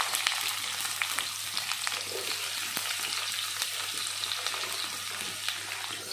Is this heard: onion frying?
yes